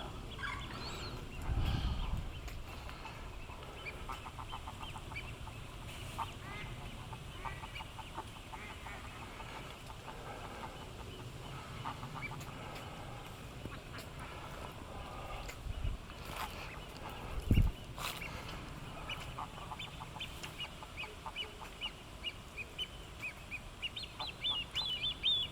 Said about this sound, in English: Gorgeous bird.